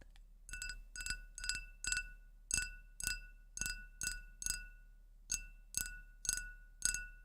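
Glasses, including a tiny cup and an empty beer glass, tapped for ASMR, giving about fourteen bright ringing clinks in an even rhythm, each decaying briefly, quiet and close with no talking.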